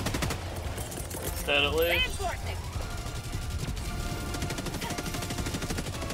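Rapid gunfire crackles steadily in Helldivers 2 gameplay against assaulting bots, with bursts of shots running under a player's voice.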